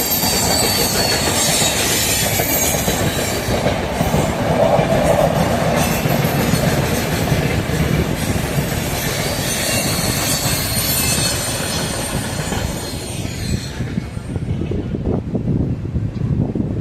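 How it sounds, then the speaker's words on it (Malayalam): The Mangaluru Central–Kanyakumari Parasuram Express rolls into Shoranur Junction, a loud, steady rumble of wheels and carriages with rhythmic rail clatter and faint squeal, easing off toward the end. "അങ്ങനെ ഷൊർണൂർ ജംഗ്ഷനിലേക്ക് കയറിക്കൊണ്ടിരിക്കുകയാണ് മംഗളൂരു സെൻട്രൽ കന്യാകുമാരി പരശുറാം എക്സ്പ്രസ്"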